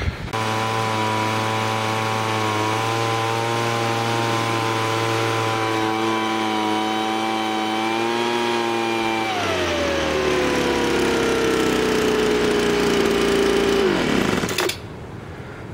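A gas leaf blower's small two-stroke engine runs steadily and loudly, dropping to a lower pitch partway through, winding down, then cutting off abruptly near the end.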